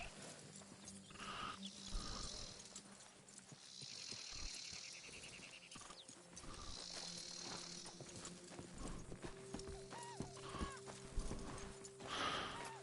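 Horse hooves clip-clop at a relaxed pace in a video game, with soft neighs or snorts and a faint background of chirping insects and ambient tones.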